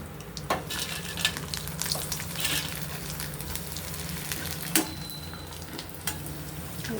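Leftover-rice vadagam fries in hot oil with a steady, dense sizzle and crackle, broken by occasional stirring scrapes and clinks of a utensil against the pan.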